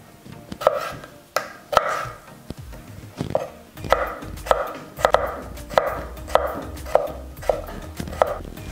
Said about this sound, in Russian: Также нам понадобится примерно 5 огурчиков. Также нарезаем все кубиком.